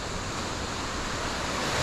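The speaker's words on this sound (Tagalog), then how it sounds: "Dagat." Sea waves washing onto the shore at Naga Cove in Mauban, Quezon, a steady broadband roar of surf with some wind, continuous and close throughout.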